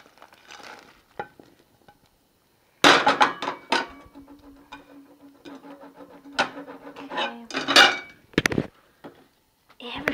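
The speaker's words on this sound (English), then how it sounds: "let's put this green beans and bok choy." Green beans and bok choy go into a simmering pot of vegetarian sinigang, a Filipino sour soup. Close, loud clatter and knocks of pot and utensils start abruptly, then continue as uneven clunks, thuds and rustles with brief pauses.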